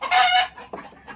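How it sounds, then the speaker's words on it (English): A chicken disturbed at roosting time in the dark gives a sharp, loud squawk up close, followed by a couple of quieter, low clucks. "Chickens hate it when you disturb them when they want to go to bed."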